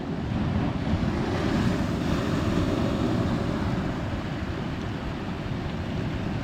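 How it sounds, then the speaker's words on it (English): Ocean surf breaks steadily behind an angler standing in shallow water, a continuous loud wash of waves mixed with wind buffeting the microphone, with no talking. "the waves are clapping me up from behind now"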